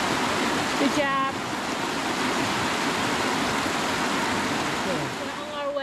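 Mountain creek flowing along a hiking trail near Telluride, Colorado, a steady broadband rush of water that stays loud and close throughout, with brief voices over it.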